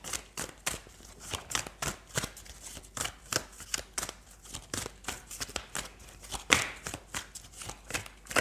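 Tarot cards being shuffled for a reading, a steady series of crisp riffling flicks and soft slaps repeating for several seconds, close and fairly quiet with no talking.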